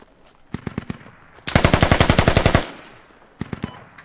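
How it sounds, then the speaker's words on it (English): A gun is test-fired in the video game Squad: a quick burst of shots, then a long rapid automatic string of about fifteen sharp reports, and a final short burst, loud and close. "Just testing my gun, sir."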